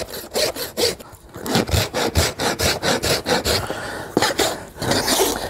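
A farrier rasps and shapes the heel of a horse's hoof with a regular run of close, loud rasping strokes, each a short scraping burst, with a brief pause partway.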